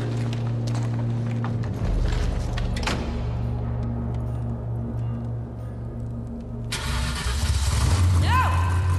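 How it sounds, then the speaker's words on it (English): A car engine in the Mad Max video game starts up and settles into a loud, steady rumble and revving, with voices talking over it. "I got a big engine now."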